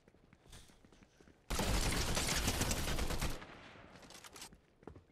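Shotgun fire in Fortnite: a sudden loud burst of rapid, overlapping gunfire lasting about two seconds, then quieter scattered shots and faint footsteps-like clicks.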